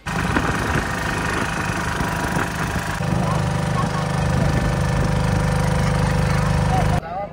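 A boat engine drones steadily during a boat ride at Parnasala. The loud, close mechanical hum and rattle continue throughout, and voices can be heard over it.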